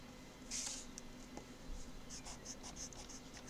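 A pen or pencil drawing a line for a two-point perspective building sketch, with soft scratchy strokes close up against quiet room hiss and no talk.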